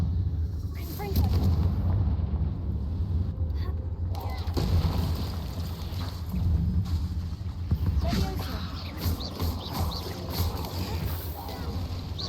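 Fiery spell blasts boom and crack in the Hogwarts Legacy video game, several loud, sharp explosions scattered over a rumbling background with a voice speaking briefly.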